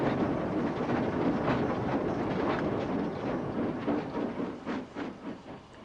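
A steam locomotive on a trial run, rolling past with a continuous rumbling, hissing roar and faint rhythmic clatter of wheels on rail, fairly close and steady, easing off slightly toward the end, no voices.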